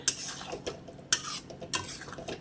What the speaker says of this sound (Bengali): আর একটু কষিয়ে নেবো, নাড়িয়ে চাড়িয়ে নেব